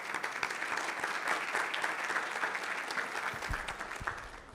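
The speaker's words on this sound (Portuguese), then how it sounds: "Uma salva de palmas." A crowd applauds a panel moderator at a conference on women executives, dense sustained clapping filling the room at an even level from start to finish, with no voices over it.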